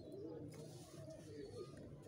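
Pigeons coo softly and fairly far off while being fed yogurt water with dried mint and leftover biryani, their low murmuring calls repeating over a steady background hum.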